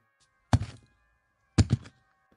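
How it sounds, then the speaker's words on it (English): A thrown brick landing on dirt makes two heavy, dull thuds about a second apart, each with a short gritty scatter afterward, close and isolated against near silence. "Throwing brick on dirt."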